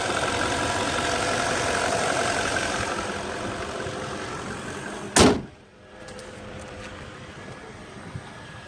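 A 2007 Volvo XC90 V8 Sport with a Yamaha 4.4-liter V8 idles with a steady low hum and faint rumble. A sharp thump cuts through midway, and the idle carries on quieter afterward.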